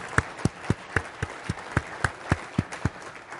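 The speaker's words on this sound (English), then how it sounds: "how about a round of applause for a moment for Tina Fries and Pat Aitchison" A few people clap slowly and evenly, about a dozen distinct claps in a regular rhythm, fairly close and sparse rather than a full crowd, during a healthcare leadership presentation.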